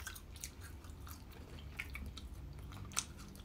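Someone eats McDonald's fries close up, with soft, moist chewing and occasional light crunchy bites running steadily throughout, quiet and with no talking.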